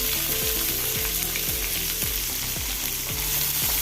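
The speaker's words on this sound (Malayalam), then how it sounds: "എണ്ണ ചൂടായി കശ്മീർ മുളക് ഇട്ട് കൊടുത്ത് കഴിഞ്ഞ് പെരിഞ്ചീരവും അര ടീസ്പൂൺ ഇട്ട് കൊടുത്തെടുത്തിട്ട് ഇനി സവോള അരിഞ്ഞ് ചേർത്ത് കൊടുക്കാം" Chopped onion frying in hot oil with Kashmiri chilli and fennel seeds for an egg curry, a steady close sizzle with rhythmic stirring scrapes roughly every half second throughout, no voices.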